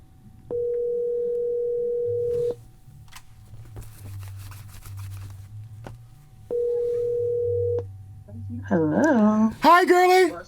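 An outgoing phone call rings through a B&O Beosound A1 third-generation speakerphone at max volume: two long steady ring tones separated by a pause, then a voice answers near the end.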